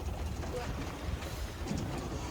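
A sailboat moving under sail at sea with the engine off gives a steady wash of water and wind rumble that stays even throughout, with no distinct events standing out.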